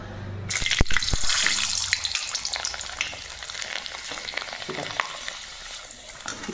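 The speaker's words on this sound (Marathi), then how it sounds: "अजून एक पापड तुम्हाला मी तळून दाखवते." Rice papad frying in hot oil in a kadhai: a steady, close sizzle and crackle that starts abruptly and keeps bubbling throughout, with no talking.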